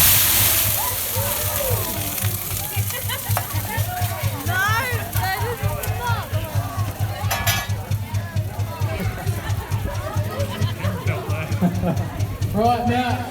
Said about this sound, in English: I want you to dump that water on that fire because we're going to try and put it out